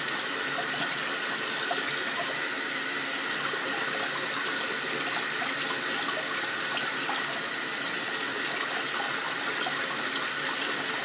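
A face being scrubbed with wet cleanser under running water: a steady, close, unbroken rush of water with no pauses and no voices.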